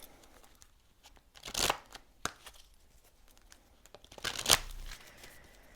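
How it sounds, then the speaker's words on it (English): Tarot cards shuffled by hand, with two or three brisk riffling bursts spaced apart over a quiet background and no voices. "we're going to shuffle a little bit more"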